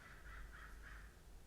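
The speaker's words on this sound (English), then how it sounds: "Sorry if you heard those crows." Crows cawing outdoors, three drawn-out caws in a steady rhythm, heard faintly at a distance over a low background rumble.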